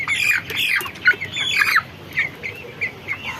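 Broiler chickens about 26 days old squawk loudly and repeatedly up close while being handled for weighing, harsh calls clustered at first and then spacing out into shorter squawks.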